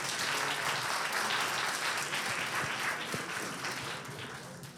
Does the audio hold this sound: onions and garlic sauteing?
no